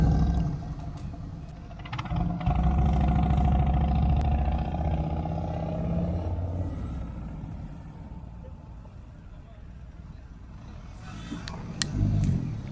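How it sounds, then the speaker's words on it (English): A motorcycle fitted with Tab performance mufflers and zombie baffles roars loudly up close, its deep engine note rising and holding before it eases off and fades as the bike moves away. "the mufflers on this bike are Tab performance mufflers with the zombie baffles"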